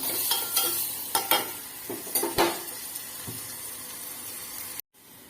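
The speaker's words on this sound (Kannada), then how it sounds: "ಸಾಲ್ಟ್ ಹಾಕಿದ್ದೀನಿ ಸ್ವಲ್ಪ ಅದು ಬೇಗ ಫ್ರೈ ಆಗುತ್ತೆ ಈರುಳ್ಳಿ" Onions with a little salt frying in a pan for a chana masala snack, with a soft steady sizzle beneath close clanks and scrapes of a spoon being stirred. The clatter comes in uneven bursts, then cuts off abruptly near the end.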